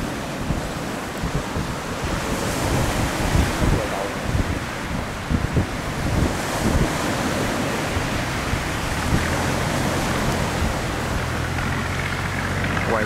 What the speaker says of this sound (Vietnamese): Biển này nó quậy lại hay sao á